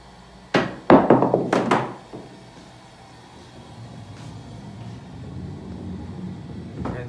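An iPhone X dropped face down onto a hard surface, landing with a sharp thunk, then skipping and hopping in a quick series of knocks before rolling quietly, with a final small tap at the end.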